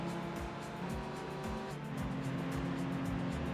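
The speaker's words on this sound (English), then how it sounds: "Car does sound better than what it did before when we first jumped in and drove this jalopy around." A car engine in the racing game Gran Turismo 3 revs continuously, with repeated upshifts marked by falling pitch sweeps, a loud, steady synthetic engine drone and no talking.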